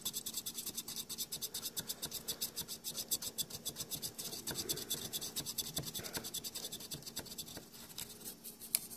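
A fine abrasive burnishing strip rasps back and forth across the contacts of a relay in a vintage Marantz 2245 or 2270 receiver, giving quick, rhythmic scratching strokes that are quiet and close.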